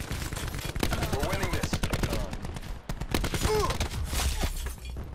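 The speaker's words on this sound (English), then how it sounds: "It's a pistol and a shotgun." In a Call of Duty Black Ops 4 team deathmatch, sharp pistol and shotgun shots crack in quick clusters while someone talks over the fire throughout.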